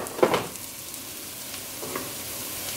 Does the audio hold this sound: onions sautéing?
yes